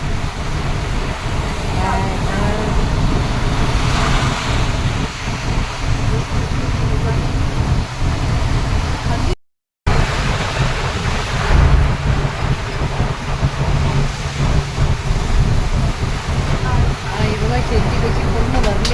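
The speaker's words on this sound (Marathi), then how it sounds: "एवढा हा पाऊस." Heavy monsoon downpour pounds the road through Parshuram Ghat on the Konkan coast, a dense, continuous roaring wash of rain with a voice talking over it.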